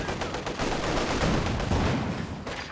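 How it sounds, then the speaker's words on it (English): FG-42 rifles firing in Company of Heroes 2 battle, dense overlapping bursts of gunfire crackling steadily and loud throughout, with no pauses between shots. "They've got the second set of FG-42s equipped now, so it's putting out some pretty nasty damage."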